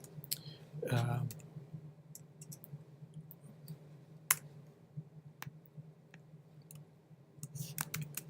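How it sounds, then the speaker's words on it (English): Computer mouse clicks, several sharp isolated taps spread across a quiet room, close and fairly faint, with a brief voice sound near the start. "I'm going to click on it to make it into italics"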